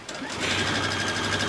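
A sewing machine runs steadily while stitching a holiday table runner, giving a fast, even mechanical whir close by.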